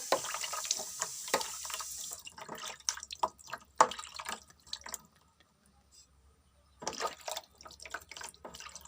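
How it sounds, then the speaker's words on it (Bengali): Water is poured over a small Gopal idol during its morning bath, giving splashy dripping and trickling in bursts with a quiet pause partway, heard close and without talk. "আমার গোপাল সোনা এখন স্নান করবে"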